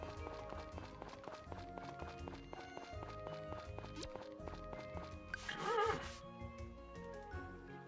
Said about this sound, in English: Where's my horse? Horse, where are you?